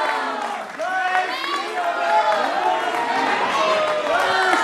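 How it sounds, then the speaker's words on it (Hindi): Studio audience applause on a Hindi television debate show greeting a surprise guest, crowd clapping and cheering throughout while a presenter talks over it. "जोरदार तालियों से अभिनंदन है।"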